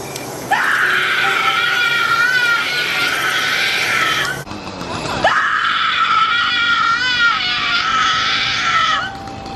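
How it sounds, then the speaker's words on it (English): High-pitched screams ring out at a Halloween haunted attraction during Howl-O-Scream at Busch Gardens Tampa Bay, two long, loud, piercing wails in a row with a brief dip between them. "There's a whole heck of a lot of screaming going on in this part."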